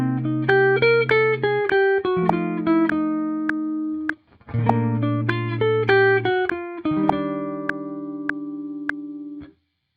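Improvised jazz line over the chord changes, an arpeggio climbing from the root and then a descending scale, played as steady two-bar phrases of clear sustained pitched notes over held low chords, with a brief gap midway and no talking.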